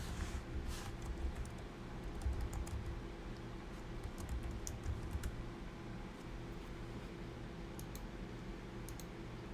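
Keys on a computer keyboard are tapped at a brisk, irregular pace while an address is typed into a real estate listing form, close, light clicks over a low steady background hum.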